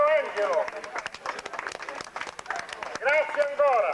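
Audience applause at a 1996 memorial sporting event in Buccheri, Sicily, steady dense clapping running through, with a voice speaking over it at the start and again near the end.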